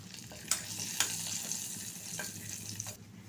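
Curry leaves added to hot oil with chilli powder sizzle and fry steadily, with a couple of sharp pops and crackles near the start, no talking.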